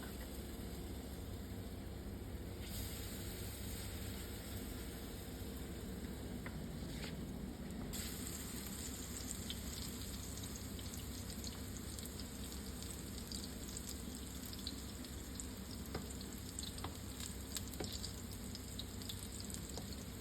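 Mushroom potato pancakes frying in oil in a pan on a stovetop, giving a steady, continuous sizzle throughout with a few brief crackles, heard alone with no talk.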